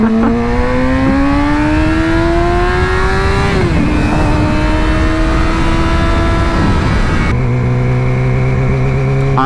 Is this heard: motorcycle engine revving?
yes